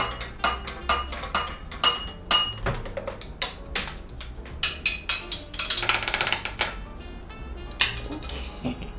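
Glasses of gimlet cocktails clink together in a toast, a quick run of sharp, bright chinks and taps spread over several seconds, close by with no talking.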